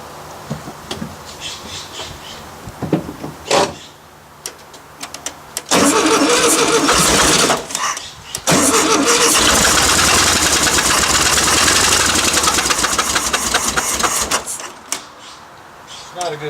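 An old Rabbit pickup truck engine cranks, catches and runs loudly with a rough, knocking note, cutting out briefly before revving again; voices can be heard over it.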